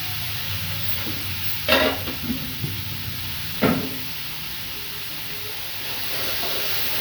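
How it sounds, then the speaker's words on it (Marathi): Cumin and mustard seeds frying in hot oil in a pan for tempering: a steady close sizzle throughout, broken by two brief louder clatters. "जिरे राईस म्हणजे मोहरी मस्त ते फ्राय करून घेते"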